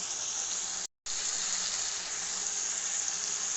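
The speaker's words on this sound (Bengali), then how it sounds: "আমি আরও কিছুক্ষণ কষাবো, এখনও কষানো হয়নি।" Lamb meat is stir-fried slowly in a pan for curry, giving a constant, dense sizzle at moderate loudness, broken by one very short dropout.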